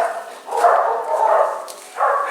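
Dogs at a kennel bark in a few loud, fairly close bursts separated by short pauses, the yaps blending together with no talk over them.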